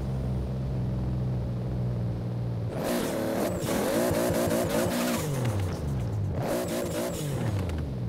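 Toyota Supra race car in Forza, engine droning at first and then breaking into long, loud tire squeals and skids as it revs hard, with two squealing bursts through repeated gear changes.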